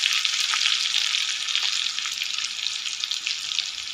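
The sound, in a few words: garlic frying in hot oil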